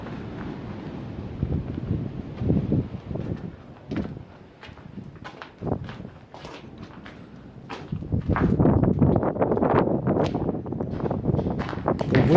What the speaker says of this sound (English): The wind is tearing the building apart.